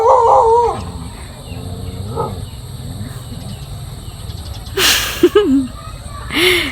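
A puppy gives a few wavering howls and whines between stretches of quiet outdoor background, some calls fairly loud and close, with a burst of noise among them.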